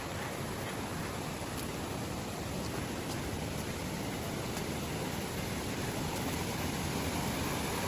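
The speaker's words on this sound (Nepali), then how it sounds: "झरना" A mountain waterfall on the Panchpokhari trek in Nepal roars as a steady, broadband rush of falling water, constant and fairly close throughout with no voices.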